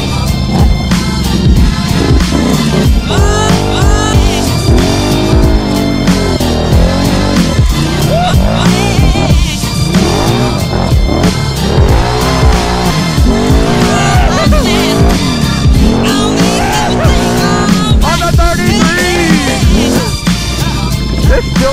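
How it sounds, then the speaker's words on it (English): Several dirt bikes and ATVs, with a side-by-side among them, roar along trails at an ATV park. Loud, continuous engine revving rises and falls throughout, with wind noise and a few faint voices underneath. "We got some dirt bikes following us."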